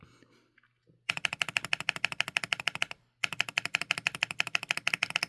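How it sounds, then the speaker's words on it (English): A Chilkey Slice75 HE mechanical keyboard's spacebar pressed rapidly and repeatedly gives close, sharp ticking clacks in two fast even bursts separated by a short pause. "I've experienced this before on two other mechanical keyboards on the spacebar"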